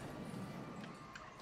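Horses galloping in Warhammer Age of Sigmar Realms of Ruin: a brief, soft patter of hoofbeats under a busy, low game backdrop.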